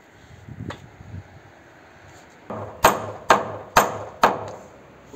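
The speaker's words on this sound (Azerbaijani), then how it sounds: "Bu mismarları vurarken birini soldan birini sağdan vurun" Hammer blows drive nails into wooden posts of a mansard roof frame, four sharp, evenly spaced strikes ringing out close and loud after a few softer knocks.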